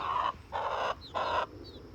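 Chickens and a rooster on a farm give three loud, close, raspy clucking bursts in a steady rhythm, separated by short pauses.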